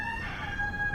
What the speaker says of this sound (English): First we had roosters.